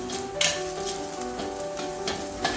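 Onions sauté in a pan until browned, giving a continuous close sizzle with faint clicks and a couple of short stirring knocks, no talking.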